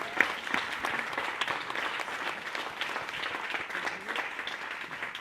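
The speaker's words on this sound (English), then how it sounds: "How about a round of applause?" A crowd at a university arts campaign kick-off event gives a sustained round of applause, many hands clapping steadily at moderate volume for several seconds with no speech over it.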